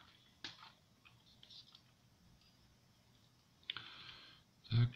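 The remote button of a selfie monopod for a mobile phone gives a few sharp, close clicks, spread out over quiet handling noise and ending in a louder burst.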